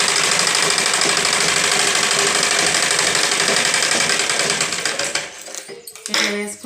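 A sewing machine stitches folded blouse fabric with a dense, steady mechanical whir that runs close and loud, then falters and stops near the end.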